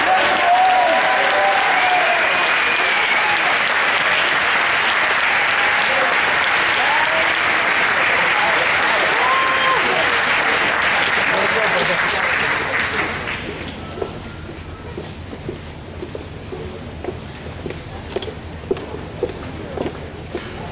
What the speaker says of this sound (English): Let's do it once more for them as a big applause.